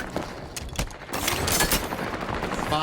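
Rapid gunfire and sniper shots from a Halo 5 Guardians capture-the-flag multiplayer match crackle in dense, loud bursts that merge into a steady barrage of combat noise.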